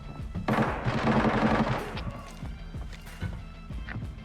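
A burst of rapid gunfire rings out in the video game Arena Breakout, followed by several sharp single shots spaced apart, loud and close with some clattering between them.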